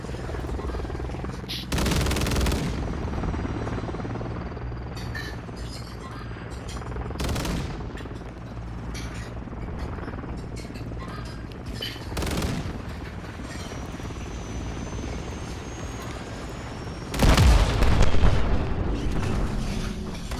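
Gunfire and a helicopter in a video game: a low, steady engine drone runs throughout, broken by four heavy, loud bursts of shots or blasts spaced roughly five seconds apart, the last one the longest.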